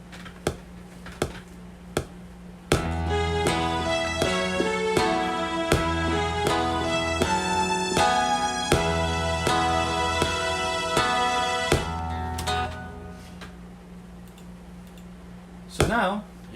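A string line played down an octave: after a few sharp clicks at the start, a sustained run of melodic notes rises up close and fairly loud for about ten seconds, then fades, ending with another brief click.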